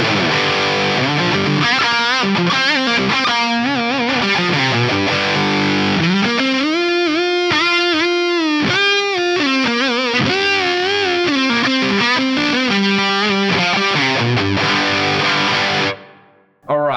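A heavily distorted electric guitar through an Axe-Fx III amp modeler set to a Soldano amp plays loud, saturated riffs and sustained chords for a long stretch, ending with a sudden cutoff.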